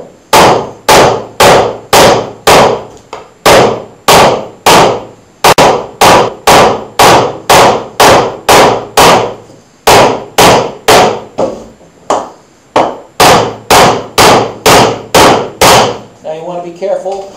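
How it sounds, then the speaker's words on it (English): A 2-pound hammer strikes the flat of a wooden bokken blade again and again, loud and close, in steady runs of sharp knocks broken by a few short pauses. "I've used a 2-pound hammer for this as well"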